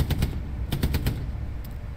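A tank in Hell Let Loose fires a high-explosive shell, heard as a series of sharp, loud bursts clustered near the start and middle, with a final fainter crack near the end.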